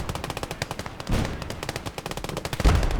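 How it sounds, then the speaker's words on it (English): Rapid machine gun bursts in the World War II game Gates of Hell during an urban battle, with tight strings of sharp reports and two heavier booming impacts mixed in, loud and close with no talking. "The main attraction is going to be these things, the machine guns and tanks."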